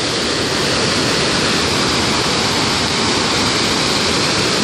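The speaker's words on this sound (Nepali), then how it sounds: "काली गण्डकी नदीमा पानीको बहाव उच्च भएको छ" The Kali Gandaki river runs in high flow after heavy rain, a dense, loud and continuous rush of water with no break or other sound.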